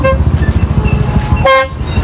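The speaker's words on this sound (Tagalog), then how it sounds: "busina ka, busina" A car horn toots close by, sharp and loud, over a rumbling engine idling in the background.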